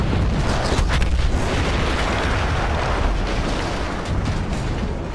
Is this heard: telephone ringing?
no